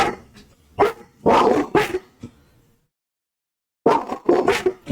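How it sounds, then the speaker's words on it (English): Several dogs bark in quick bursts, loud and close, with a pause of silence between two clusters of barks and no talking over them. "I'm sure you can't hear the dogs quietly barking in the background, right?"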